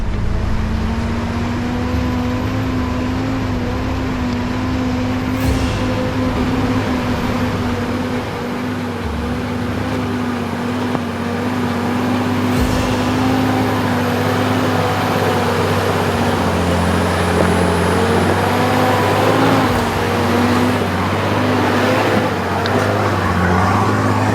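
A 4WD with both lockers engaged grinds up a steep, muddy mountain track in low second gear during torrential rain. Its engine makes a loud, steady, close drone that holds a strained, even pitch for the whole climb, with small surges in revs.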